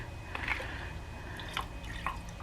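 A splash of orange juice is poured into a mixing bowl mixture, giving a few short, close liquid drips and trickles over a quiet background.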